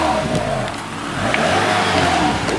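A car's exhaust roars as the engine is revved toward about 4,000 rpm, a loud, close, sustained rumble that rises and holds, with no talking.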